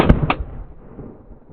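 Sharp single gunshot from an AK platform rifle fired at coated steel armor plates, a loud close crack with a quick second report and a decaying outdoor rumble, no talk.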